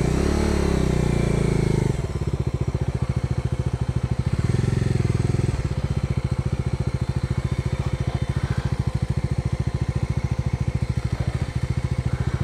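A motorcycle climbs a steep mountain road near Belen, Hatay, its engine chugging loudly and close, with a rapid rhythmic pulsing that shifts as it labours up the slope.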